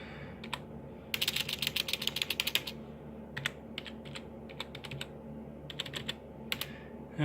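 A password is typed on a gaming PC's computer keyboard: close, crisp key clicks in a fast burst, then shorter scattered clusters over a faint steady hum.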